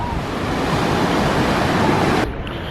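Ocean surf at Coney Island, seen from a fishing pier, roars as a loud, continuous wash of breaking waves that drops off abruptly near the end.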